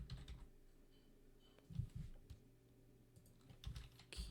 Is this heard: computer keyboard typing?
yes